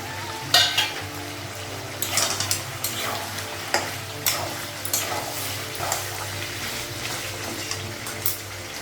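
Potatoes fry in a pan with a constant sizzle, broken by repeated scraping stirs and clinks of a utensil against the metal, close and fairly loud.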